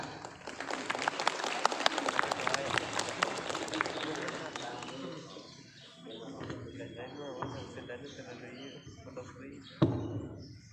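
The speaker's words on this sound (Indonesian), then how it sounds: "Tepuk tangan." A school audience claps during a Maulid Nabi celebration at an Islamic junior high school, a lively burst of applause that thins out after a few seconds, leaving scattered sounds and a faint voice.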